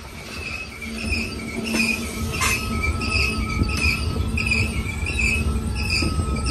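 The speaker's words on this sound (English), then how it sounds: "And this is probably our last train of the day." A Union Pacific freight train rolls past at Cajon Pass, a steady rumble of wagons with sharp wheel squeals ringing out repeatedly over the continuous roar, fairly close.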